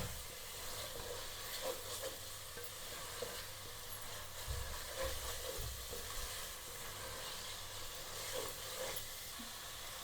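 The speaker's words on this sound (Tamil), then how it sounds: "புதினா மல்லி சேர்த்து நல்லா வதக்கி விடுங்க" Mint and coriander sautéed and stirred into biryani gravy in a pan, a steady low sizzle with the scrape of a spoon recurring throughout, no talking.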